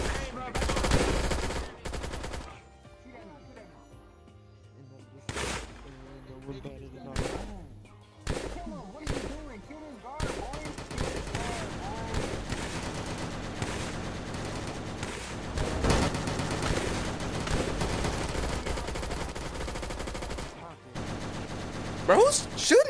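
Prison escape game gunfire: bursts of rapid machine-gun shots that start and stop, becoming a dense sustained barrage in the second half, mixed with people talking.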